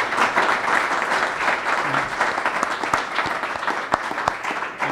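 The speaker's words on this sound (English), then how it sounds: "please give our panelists a great round of applause for tonight" Audience at an Empire Club housing panel discussion applauds the panelists, a steady, moderately loud wash of clapping with a few sharper individual claps standing out throughout.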